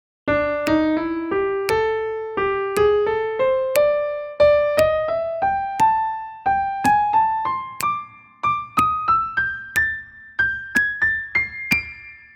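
Solo piano plays a lively boogie-woogie pattern that climbs steadily from the low keys up to the high end, with crisp repeated chords in a bouncing rhythm.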